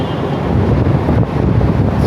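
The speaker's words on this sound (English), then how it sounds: "It's very windy from the vents." Strong wind from vents near Bay Station in Toronto at night rushes and buffets loudly and continuously, a dense roaring gust with no breaks.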